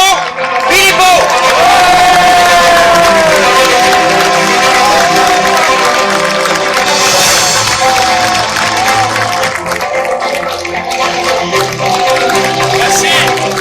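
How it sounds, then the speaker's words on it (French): A large crowd at a French political rally applauds and cheers loudly and steadily for the president of Les Patriotes. Music plays underneath and a voice speaks over the dense, sustained roar. "Mesdames et messieurs, faites un tonnerre d'applaudissements au président des patriotes, Florian Philippot."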